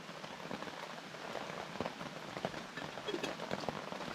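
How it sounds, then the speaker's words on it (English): Heavy rain pours down onto a tarp shelter over a solo bivvy camp, a dense, even patter with scattered louder drops, constant throughout and fairly soft, with no voices. "As you can probably hear on the tarp, it's pouring down."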